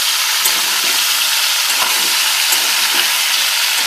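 Potato and onion frying in oil with a little salt for a Bengali mixed vegetable curry: a steady, dense sizzle with occasional soft clicks of stirring, no voices.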